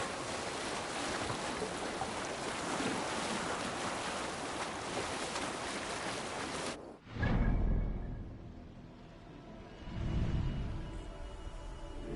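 A sailing ship in Assassin's Creed Valhalla glides over open water with a steady wash of waves and wind, then a sudden drop leaves quieter creaking and gentle surges of water swelling and fading.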